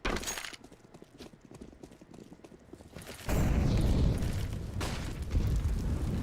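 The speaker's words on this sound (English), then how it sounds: "A nade does do decent damage." A grenade blast goes off in a mobile shooter game during an esports match, a sudden loud broadband boom that gives way to a sustained roar and rumble, following a stretch of busy gameplay noise.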